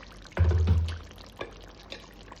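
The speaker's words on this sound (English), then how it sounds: "So I'm gonna add some hot water to it." Hot water from a kettle poured into a cooking pot of Jamaican stew pork, a short low splashing pour of about half a second, close and fairly loud, followed by faint drips and quiet kitchen background.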